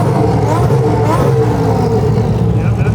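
A Mercedes-AMG GT S engine revs hard, a loud continuous roaring drone with rising and falling pitch that fills the whole moment at close range.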